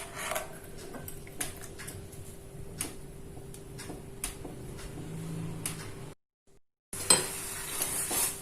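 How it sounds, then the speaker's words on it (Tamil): A spoon stirs boiling milk tea with pepper for Karpooravalli herbal tea, giving irregular light clinks and taps against the pot over a low bubbling simmer, with a brief silent gap near the end. "சரி, கிளறிட்டே இருங்க"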